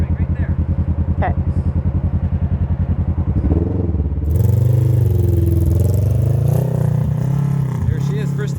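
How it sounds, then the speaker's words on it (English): RS1 side-by-side UTV in high gear with an Aftermarket Assassins Stage 2 tune: a loud, close engine with fast even pulsing that swells into a steady roaring drone as it picks up speed, with people talking over it. "There she is, first time in high in the RS1"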